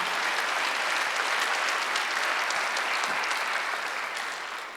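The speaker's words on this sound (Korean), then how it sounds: "믿는 사람만 박수 주세요" Sustained applause from a church congregation during a Sunday worship service, a dense steady wash of many hands clapping that carries on for several seconds and slowly tapers toward the end.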